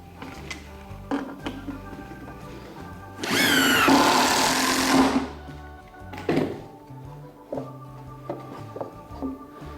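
A power drill drives the first screw into wood while a Japanese-style wooden table is assembled: one loud whirring burst of about two seconds with rising pitch, set among scattered knocks and handling thuds.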